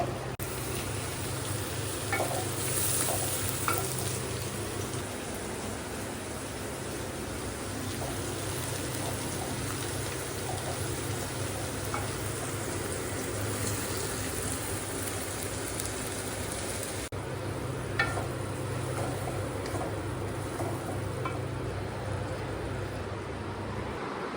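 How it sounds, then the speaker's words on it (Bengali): Bitter gourd (karela) stir-frying in a home pan, without shrimp, giving a steady close sizzle and frying hiss throughout with faint stirring clatter and no talk. "চিংড়ি মাছ ছাড়াই করলা ভাজি করতেছি"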